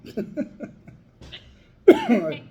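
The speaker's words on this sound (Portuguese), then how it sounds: "Eu tô tossindo aqui" A person speaks briefly, then after a short pause lets out a sudden loud cough followed by a raspy trailing breath, close to the listener.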